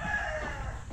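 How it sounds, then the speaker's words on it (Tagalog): Chickens in a yard full of fowl, a short burst of clucking with a crowing note, close and fairly loud against outdoor background noise. "Daming manok dito."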